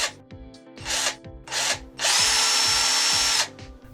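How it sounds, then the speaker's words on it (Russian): A cheap cordless electric chainsaw from AliExpress revs in short whining bursts of about half a second, then in one longer steady run of over a second, close and loud, with quiet gaps between. "Держать пилу в руках в принципе как шуруповерт, плавный ход присутствует"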